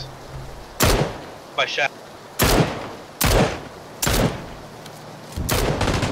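Gunshots crack in PUBG: five loud, separate reports spaced about a second apart, with a short spoken phrase in between.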